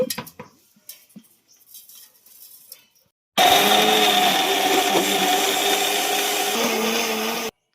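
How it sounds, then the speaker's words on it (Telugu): Mixer grinder whirring through milk, two eggs, a cup of sugar and vanilla essence for caramel pudding cake; a loud, steady motor drone starts abruptly after a few soft clinks and handling taps, then cuts off. "అన్నీ మిక్సీ పట్టుకోవాలి."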